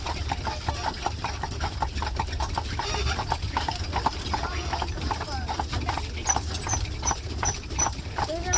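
A horse pulling along a road in Amish country clip-clops in a steady, even rhythm of hoof strikes, heard close and continuous under people chatting, with faint traffic noise in the background.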